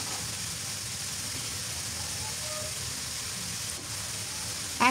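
Green chilies and onions frying in a pan give a steady, even hiss of sizzling oil. It holds at a moderate level throughout, with a faint clatter at the very end.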